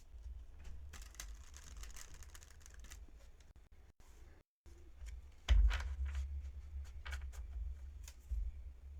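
Tarot deck of stiff cardstock being shuffled by hand, soft quick riffling and sliding card clicks in short bursts, close and quiet, with a brief pause and a louder knock partway through.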